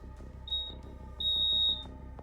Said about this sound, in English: Fire alarm day. It goes off once and that's it.